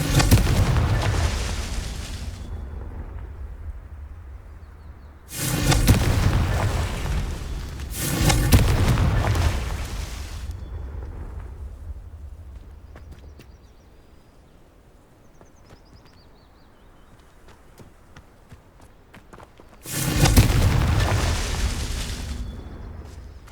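Confringo blasting spells explode in Hogwarts Legacy, three or four loud booming blasts spaced several seconds apart, each a sharp burst with a long rumbling decay, separated by quieter stretches of faint ambient noise.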